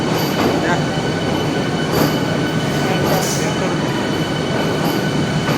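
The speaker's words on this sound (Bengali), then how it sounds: "নতুন ট্রেন উদ্বোধন করেছে" A newly inaugurated train passing close by, its loud continuous rumble of wheels and carriages running steadily throughout with faint squeals and clatter on top.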